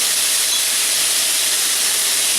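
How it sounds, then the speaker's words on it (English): Spices hitting a hot pan of pork give a steady, loud hiss with no breaks, the broad sizzle holding evenly for the whole stretch with no talking. "Adding the spices now to the pan."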